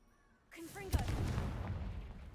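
A Confringo fire spell in Hogwarts Legacy bursts with a single sharp blast, then rumbles on briefly. A voice speaks just before it.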